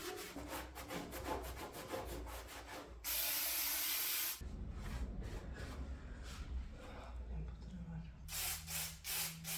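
Brake cleaner sprayed into the engine bay of a VW Golf MK2 GTD during prep: a loud, steady hiss lasting just over a second, set among close scraping and rubbing sounds.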